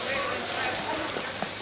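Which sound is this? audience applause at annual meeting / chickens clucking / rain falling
rain falling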